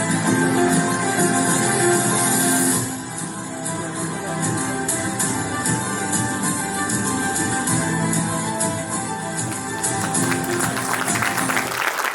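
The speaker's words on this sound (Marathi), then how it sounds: "टाळ्या वाजवून स्वागत करूया." Audience applause welcoming an award recipient at the Vikram Gaikwad Legacy Award ceremony in Mumbai, loud dense clapping that thins slightly after a few seconds and continues steadily to the end.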